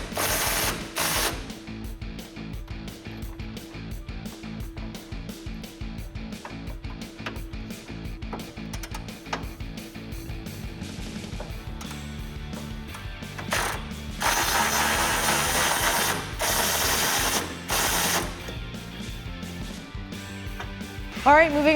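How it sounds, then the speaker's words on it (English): Socket ratchet loosening 18 mm nuts on a rear bumper of a 2019-2021 Silverado or Sierra 1500 pickup, giving steady, close, rapid ratcheting clicks over a long stretch with short pauses between bursts, and no talk. "grab an 18 millimeter socket and a ratchet or an impact gun if it'll fit. Go ahead and take them off."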